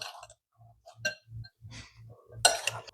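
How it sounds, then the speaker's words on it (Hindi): Spoon scraping and clinking against a bowl while fried chicken is tossed in sauce, a series of short irregular metallic taps and soft knocks, close and fairly quiet. "अच्छा इसको मिक्स करेंगे, अच्छे से मिक्स करेंगे, इसे ऊपर नीचे करेंगे चिकन को।"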